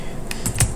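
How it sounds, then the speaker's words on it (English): A few quick clicks of keys on a computer keyboard, three distinct taps in under a second, close and fairly loud over faint background hiss. "Now I'm just typing Grub because I have it aliased in my ZSHRC to that"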